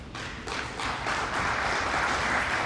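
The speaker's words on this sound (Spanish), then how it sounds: "Recibamos con un fuerte aplauso." Audience applause at an academy investiture ceremony, a soft hiss of many hands clapping that builds from a few early claps into a steady, fairly distant wash of applause.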